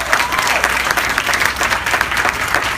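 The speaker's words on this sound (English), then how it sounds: "I think that's worth a round of applause." Dense, continuous applause from an outdoor crowd at a downtown groundbreaking ceremony, steady and close for the whole stretch.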